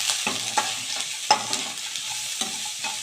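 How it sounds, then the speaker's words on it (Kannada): Turmeric powder frying in tempering oil for chitranna crackles with a steady close sizzle, punctuated by several sharp scrapes and taps of a spoon stirring the pan. "ಆಮೇಲೆ ಇದೇ ಒಗ್ಗರಣೆಗೆ ಒಂದು 1/4 ಟೇಬಲ್ ಸ್ಪೂನು ಅರಿಶಿನ ಪುಡಿ ಹಾಕ್ಕೊಂಬಿಡಿ. ಇದನ್ನು ಸ್ವಲ್ಪ ಫ್ರೈ ಮಾಡ್ಕೊಂಬಿಟ್ಟು"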